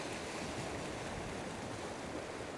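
Ocean waves washing and flowing along a shore, a steady, dense rush of surf with no distinct breaks, fairly close and continuous throughout.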